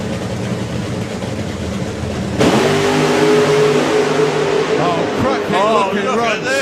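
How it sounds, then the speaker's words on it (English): Fuel funny cars making a 1970s–80s style drag racing run, a loud engine roar that jumps sharply and holds at full power with rising revs near the end, heard under an announcer's voice and crowd noise. "Fuel funny cars, 70s and 80s style."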